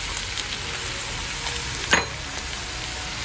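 Ground pork sizzles and crackles steadily in a hot pan, a close and even frying hiss with one brief scrape of stirring partway through.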